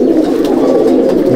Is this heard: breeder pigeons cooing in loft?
yes